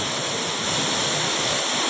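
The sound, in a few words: water of Pinlac Falls waterfall rushing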